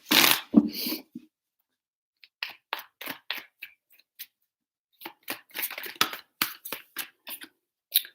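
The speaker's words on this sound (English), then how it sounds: "3 shuffles for Leo." Tarot cards are shuffled by hand, a loud riffle at the start followed by bursts of crisp flicking and tapping card sounds in uneven rhythm, close and without talk.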